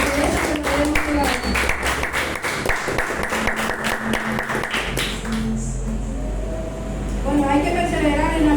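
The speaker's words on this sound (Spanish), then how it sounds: "Ofrezcan un fuerte aplauso al Señor" Church congregation applauding during a Spanish-language service: dense clapping for about five seconds, fading into crowd murmur and scattered voices afterward.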